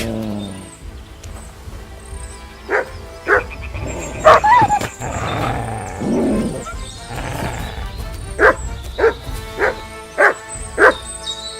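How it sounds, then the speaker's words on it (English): A dog in the medieval role-playing game Kingdom Come: Deliverance 2 barks repeatedly, with short, loud, close yaps in scattered bursts over game ambience and a little background voice. "you silly doggy."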